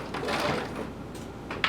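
A sewing machine stitches the side seams of a shirt with a 5/8-inch seam allowance. It makes a close, steady mechanical whir with faint clicks and a sharp tick near the end.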